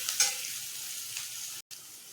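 Four whole dried red chillies sizzling in hot oil while making pepper chicken: a steady, hissing crackle close by with a brief louder spatter at the start and a momentary dropout near the end.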